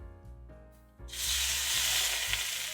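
Filet mignon steaks hit a hot cast iron pan and burst into a loud, steady sizzle that keeps crackling and hissing up close after a quieter moment of low voice.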